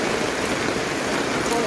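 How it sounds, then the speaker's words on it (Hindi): Steady rain pours down in a rural Indian livestock yard, a constant close hiss filling the short stretch with no break, loud and even throughout. "बारिश डिस्टर्ब कर रहे भाई"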